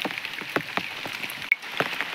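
Steady, heavy unseasonal May rain patters on a surface with scattered heavier drops striking nearby, a continuous wet hiss throughout.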